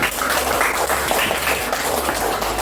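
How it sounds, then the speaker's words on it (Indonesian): Sustained applause from a class of students clapping together in a classroom after a group presents its coloring work, a dense, steady wash of claps at even loudness throughout. "Tepuk tangan."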